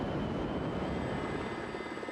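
A salvage helicopter flying in continuous steady rotor and engine drone, moderately close, with no pauses and no voices.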